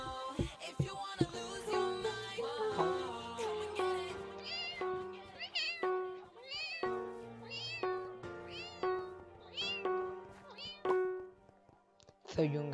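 A person imitates a cat, producing a long run of meows in varied pitches and lengths, close and fairly loud, some drawn out and others short and rising.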